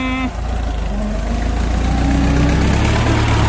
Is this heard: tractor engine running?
yes